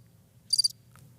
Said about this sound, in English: You gave me the crickets.